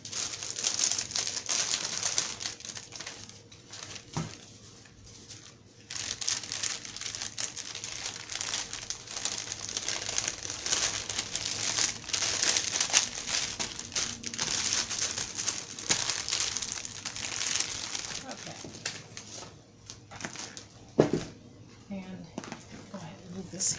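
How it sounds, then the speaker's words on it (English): A vintage 1960s sewing pattern being slid back into its crinkly paper packaging gives soft, scattered rustles and crackles at moderate volume, with a sharper crinkle near the end and quiet room noise in between. "I'll go ahead and put this back in the packaging."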